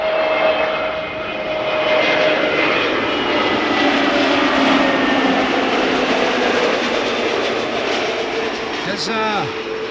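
A departing airliner bound for Doha at Amsterdam Schiphol, a loud, steady jet engine roar sustained throughout, with a brief voice near the end.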